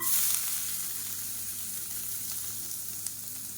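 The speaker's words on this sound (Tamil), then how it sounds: "இப்போ 20 பல் பூண்டு நச்சு வச்சுருக்கேன், இதை சேர்த்துக்கலாம்." Whole garlic cloves frying in oil in a kadai, a dense, steady sizzle heard up close with no talk.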